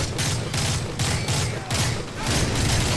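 Gunfire in Call of Duty Modern Warfare 3 comes as loud, sustained automatic bursts in a steady rhythm of about five volleys, close and dominant.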